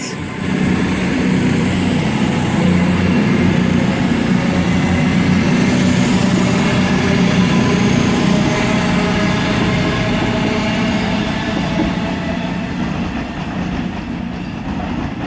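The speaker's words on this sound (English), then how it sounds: "Is going to be a 221 Super Voyager, which is the 1425 cross-country service to Manchester Piccadilly" A Class 221 Super Voyager cross-country diesel train passes at Stockport on the Manchester branch, a loud, steady rumble with rail clatter and a high whine fading toward the end.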